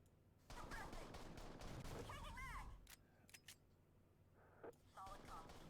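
Automatic weapon fire in the tactical shooter Strain Tactics: dense rattling bursts for the first few seconds, then a handful of sharp isolated cracks, with voices chattering briefly between shots.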